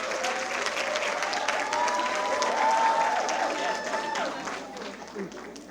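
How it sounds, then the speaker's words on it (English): Audience applause for a poem performance at a women in media and communications panel, a dense steady clatter of many hands that swells slightly midway and tapers near the end, with voices mixed in. "A big round of applause to you."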